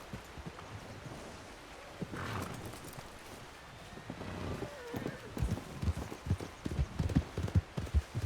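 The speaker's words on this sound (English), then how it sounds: "Yes, I'll go get my horse." Horse hooves in a video game clip-clop in a steady rhythm with rustling ambience, growing louder and more distinct toward the end; faint voices murmur underneath.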